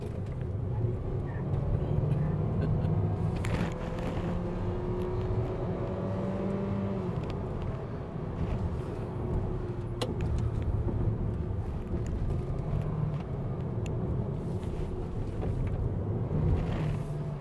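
A 2021 Mitsubishi Xpander MPV engine holds a steady drone in third gear while climbing a winding mountain road, a continuous low rumble with road noise lasting throughout at an even level.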